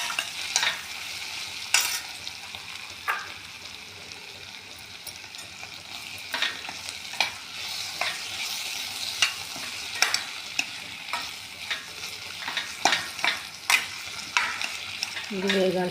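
Ginger garlic paste frying in a pan with potatoes, onion and tomato, a steady sizzle broken by repeated scraping stirs throughout, close and fairly soft, with no talking.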